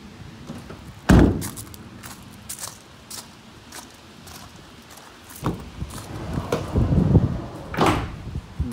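The side door of a Ford Transit L3 H3 RWD 130ps Trend van opens with a sharp, loud metallic clunk, then quieter rattles and handling noises, ending in further heavier clunks and a final latch knock, with no talk.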